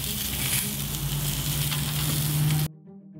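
Bacon-wrapped chicken breasts sizzling on a hot grill, a steady close frying hiss with crackles that cuts off abruptly near the end.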